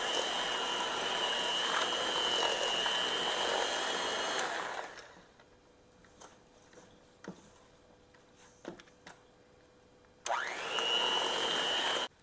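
An electric mixer creams cold butter for a condensed milk pound cake, running with a loud, steady whir, then cutting off for several seconds of faint clicks and knocks before starting up again near the end.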